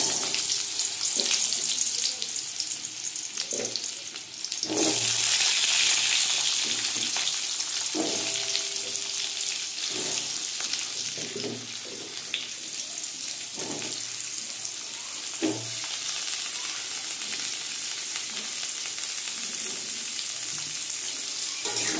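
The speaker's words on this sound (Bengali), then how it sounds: "বড়া ভাজা তেলেই আমি আলুটা ভেজে নেব।" Potatoes fry in hot oil left over from fish-egg fritters, a steady close sizzle that fills the whole stretch, broken by occasional scrapes and taps of a spatula stirring the pan, with no one talking.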